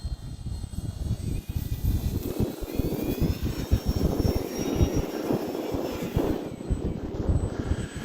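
A Hobbyzone Carbon Cub S 2 1.3 m RC airplane drones overhead at a fair distance, its electric motor whining steadily with slowly shifting pitch over wind noise.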